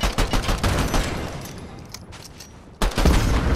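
Rapid bursts of video game gunfire at a vehicle, loud and dense at the start, thinning into a quieter stretch, then resuming sharply for the final second.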